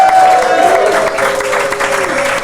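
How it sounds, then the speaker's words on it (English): A crowd at an adult summer camp brunch event applauds the winner, a dense burst of clapping under a loud voice talking over it. "A round of applause for Liam."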